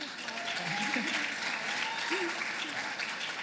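An audience at a live entrepreneurship pitch event applauds with a steady wash of clapping, while a voice speaks briefly over it.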